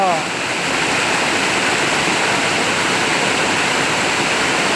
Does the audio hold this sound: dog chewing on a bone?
no